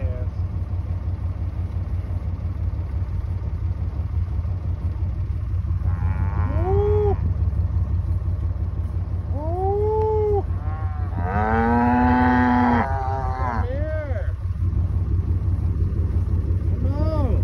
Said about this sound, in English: 48 cows and 12 calves.